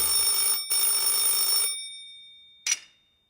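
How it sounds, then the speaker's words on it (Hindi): An old telephone bell rings in two long bursts, then a brief final jingle before fading into silence. "एक दिन रमन के घर पर टेलीफोन की घंटी बजी।"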